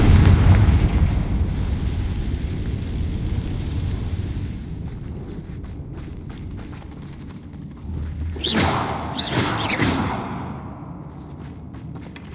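Confringo fire spell exploding in the video game Hogwarts Legacy: a rumbling, noisy backdrop gives way to a cluster of sharp, bright blasts and crackling bursts near the end, loud and without talk.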